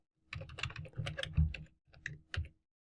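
HTML code being typed on a computer keyboard: dense, rapid bursts of close key clicks in two runs separated by a short pause, with no voice.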